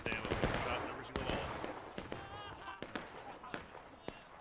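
Musket shots crack in a Civil War skirmish in War of Rights, a scattering of sharp irregular reports, some near and some farther off, ringing out under and after a speaking voice.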